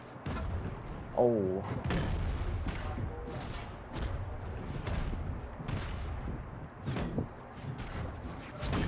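Cannon weapon firing in the video game Brawlhalla: heavy booming blasts and thuds mixed into busy game effects, with a brief spoken exclamation early on.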